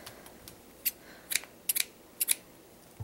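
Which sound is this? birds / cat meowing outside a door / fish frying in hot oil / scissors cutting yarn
scissors cutting yarn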